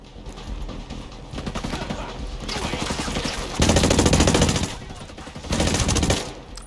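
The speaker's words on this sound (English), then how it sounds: "I love the way this gun sounds." Automatic rifle fire in the Ghost Recon Breakpoint video game, the SC 40K weapon firing in rapid sustained bursts with loud louder stretches, a few gaps between volleys, over faint game background.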